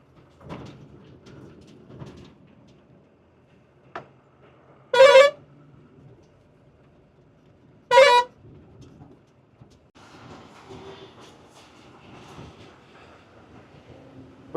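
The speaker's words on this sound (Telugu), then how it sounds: "టర్నింగ్ కొట్టేటప్పుడు ఒకసారి హారన్ కొడితే వాళ్ళే అటుకోసం జరుగుతుంది" A vehicle horn sounds twice on a narrow, potholed mountain ghat road near Simla, two loud short blasts about three seconds apart standing out over a quiet background of engine and road noise.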